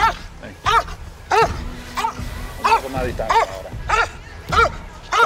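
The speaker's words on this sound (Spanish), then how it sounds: "El perro está cansado, caballero." A police K9 dog barks repeatedly in sharp, evenly spaced bursts close by, while people talk over it.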